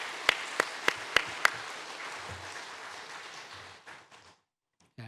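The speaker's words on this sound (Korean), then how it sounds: "모든 봉사자에게 이 시간 박수 한번 보내십시다" A church congregation applauding its volunteers, a few sharp distinct claps over a bed of general applause from a large room that fades out toward the end.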